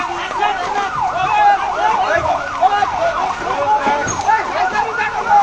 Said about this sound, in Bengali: ফায়ার সার্ভিস ভাইরা আসতেছে